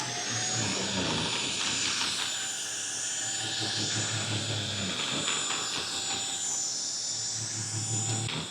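A Trucozie mattress vacuum cleaner, a 16Kpa bed vacuum, runs steadily after being switched on, giving a loud continuous motor whine with a broad hiss that stays even throughout, with no talking.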